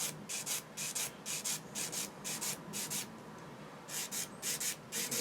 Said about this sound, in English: Sand it a semi-flat edge onto it.